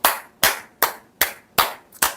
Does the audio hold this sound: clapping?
yes